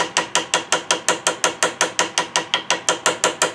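A ball-peen hammer peens a soft brass rivet while building a Kibler Woodsrunner flintlock muzzleloader kit. Quick, even metallic taps come about four per second, close and alone, with no voices.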